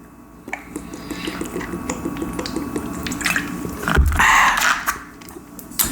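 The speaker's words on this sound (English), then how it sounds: "you can hear this water trickle down my throat" A man drinks water, with close, quiet swallowing and trickling sounds, a few soft gulps and a louder wet gulp near the end, without talk.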